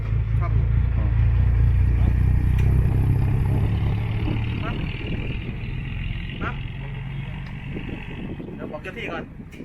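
A water pump engine runs steadily with a deep, rumbling drone, close and loud, while people talk over it.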